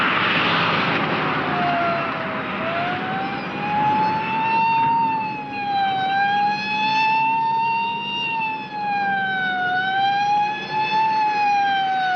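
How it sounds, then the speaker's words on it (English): A wailing police car siren sounds loud and steady, rising and falling in long sweeping cycles close by on a highway, with no talk over it. "There's a police car right in back of us."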